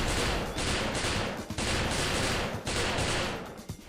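Gunfire in the shooter video game XIII, dense rapid bursts of automatic fire in long loud volleys broken by brief gaps, with no talking.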